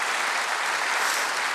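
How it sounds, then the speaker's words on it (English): Audience at a port security town hall gives a round of applause, a dense, even burst of clapping from a crowd. "please, ladies and gentlemen, join me to give a round of applause"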